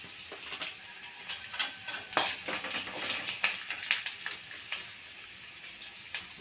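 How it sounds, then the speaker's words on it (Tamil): Fennel seeds, pepper and cumin dry-roasting and being stirred in a pan, a faint sizzling crackle with soft scattered scrapes and taps, close and quiet with no talk. "ரொம்ப கருக்க விட்டுறாதீங்க, லைட்டாக வறுத்தாலே போதும்."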